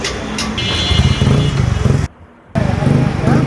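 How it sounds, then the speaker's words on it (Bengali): A retro-style modified LML Freedom motorcycle rumbles steadily at close range as it rides off, its engine note continuous with a brief dropout midway before the sound resumes. "এখন বাইকটি নিয়ে উনি ডেলিভারি মানে চলে যাবে"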